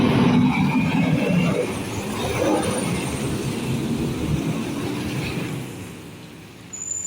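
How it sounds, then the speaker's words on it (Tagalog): A garbage truck passes along a cold residential street, a broad rumbling roar that builds and holds steady for several seconds before fading, with no talking. "Truck ng basura yan guys."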